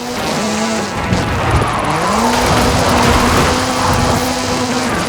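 The Hoonigan Gymkhana 10 Ford Focus RS RX, a 2-litre turbocharged all-wheel-drive car, drifts in Forza Horizon 5: a loud, continuous engine note rises and falls as the tyres squeal steadily underneath.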